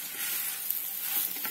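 Garam masala stirred into a prawn and brinjal curry in a pan, a soft continuous scraping and gentle sizzle close by, steady and fairly quiet with no talking.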